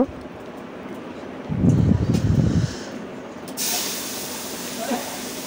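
Bay leaf, a dried red chilli and five-spice hit hot oil with a sudden burst of hissing and sizzling, then a steady softer sizzle continues.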